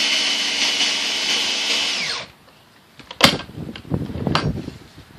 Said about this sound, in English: then we just screw it on to the door